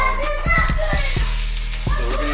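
Onions sizzle and fry in a pan on the stove, a bright steady hiss broken by a few clattering stirs, with a voice and hum in the background.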